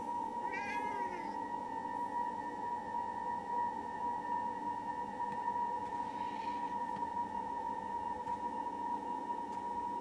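In the video game Forspoken, a cat gives a short meow near the start, then a fainter second meow follows, both over a constant droning game ambience with no talk.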